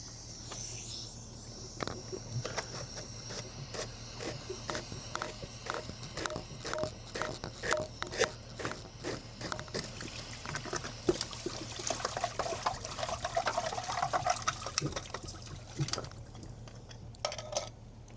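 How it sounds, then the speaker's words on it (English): Dirty water gushing and trickling out of a Jandy CS pool cartridge filter after its drain plug is popped, a steady splashing flow with a constant low hum from nearby pool equipment throughout. "pop the drain plug before you lift the lid off to get all the nasty water out of the filter system"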